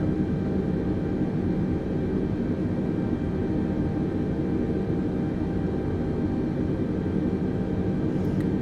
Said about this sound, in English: So we'll just turn on to this taxiway here.